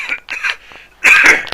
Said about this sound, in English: Let's have a cough, see if I can clear this.